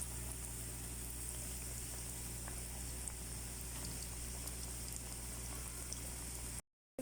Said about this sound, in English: Let's fry it.